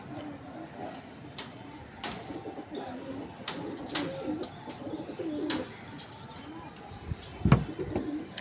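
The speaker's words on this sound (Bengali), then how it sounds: "দুটি পায়রা দেখে নিন দাদা, ফ্রেশ অ্যান্ড বিউটিটা" A male and female pair of Punjabi pigeons cooing softly, with low repeated coos and a few faint chirps and wing or cage clicks nearby, ending in a louder burst.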